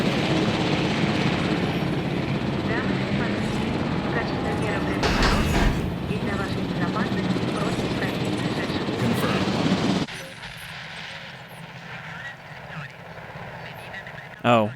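A continuous helicopter rotor drone in the video game Jurassic World Evolution, loud for about ten seconds, then cut to a quieter, thinner background with a brief burst at the very end.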